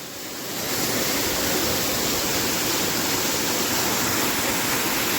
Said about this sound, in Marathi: असं एवढ्या स्पीडला पाणी येतं ना, जाम भारी जाम भारी